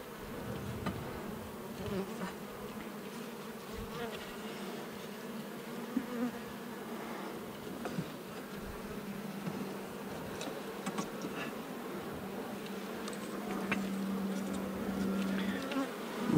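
Honeybees swarm and buzz steadily around an open hive frame holding larvae, eggs and packed nectar, a continuous close drone with scattered louder passes of individual bees.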